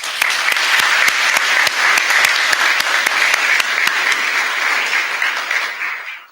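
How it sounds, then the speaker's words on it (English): A crowd applauds graduating firefighters of Class 185 at their fire department graduation ceremony, with steady, loud, dense clapping that holds for several seconds before tapering off at the end. "Let's give them a round of applause."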